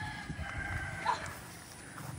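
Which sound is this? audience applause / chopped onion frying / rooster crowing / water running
rooster crowing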